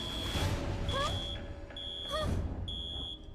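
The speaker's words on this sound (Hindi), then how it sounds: "ये लो जी, अलार्म बजने लगा।" An alarm goes off in repeated bursts of steady, high electronic beeping, with short chirping tones and a noisy background between the beeps.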